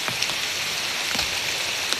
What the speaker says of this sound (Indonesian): Hujan panas ya.